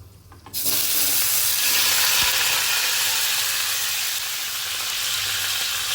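Marinated chicken hits hot ghee in a pan for a Bengali Mughlai pulao and breaks into a loud, steady sizzle that holds close and continuous after a brief quiet start.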